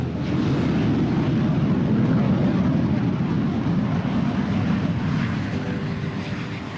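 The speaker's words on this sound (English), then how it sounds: "saw planes flying over, like this guy" An airplane flies over near a military flight line, a loud, steady broadband engine roar that holds constant and eases slightly toward the end, with no talk.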